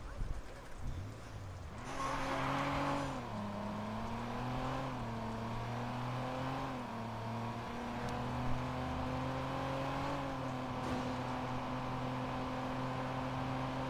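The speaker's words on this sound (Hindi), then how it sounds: "ये गाड़ी का उतना बढ़िया खास एक्सेलरेशन नहीं है, लेकिन स्पीड बाप यार" A car driven in the video game Watch Dogs: a steady, fairly quiet engine drone that climbs in pitch, dips briefly as if shifting gear, then holds a sustained cruising hum.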